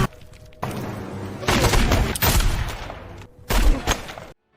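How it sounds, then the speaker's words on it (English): Gunfire in an action movie as a woman shoots from a rooftop, loud bursts of rapid shots and booms in several clusters with short gaps, ending abruptly in silence. "utilizing her high position to shoot at Tess and Lucas"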